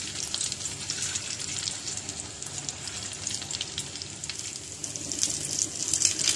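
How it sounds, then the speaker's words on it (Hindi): Shami kababs fry in hot oil on a tawa, a dense, steady sizzle and crackle heard close up, growing slightly louder toward the end. "यहां तवे पर ऑयल गरम हो रहा है, इसमें ये कबाब रखते जाएंगे।"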